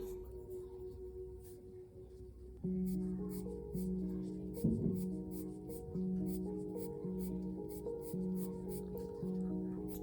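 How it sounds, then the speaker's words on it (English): A 6B graphite pencil drawing individual lines on paper: a run of short, soft, scratchy strokes repeating in a steady rhythm, close and faint, over a sustained tonal background. "Now I'll use a 6B pencil."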